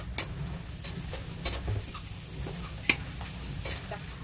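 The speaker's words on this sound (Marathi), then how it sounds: "100 ग्रॅम मक्याचा चिवडा आता तळून घेऊ" Maize chiwda frying in hot oil, a soft low sizzle with scattered light clinks and taps of a spoon against the pan, fairly quiet and steady with no voices.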